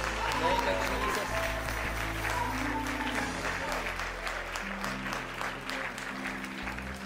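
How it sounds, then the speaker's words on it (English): Sustained congregational applause fills a church youth service, steady dense clapping at moderate loudness throughout with organ or keyboard tones held underneath. "give the Lord a hand clap of praise one more time"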